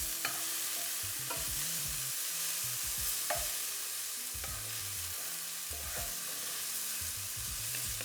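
Mushrooms fry in a pan for vegan Salisbury steak, a steady sizzle filling the background while a utensil stirs and scrapes in short irregular bursts, with a few sharp clicks against the pan.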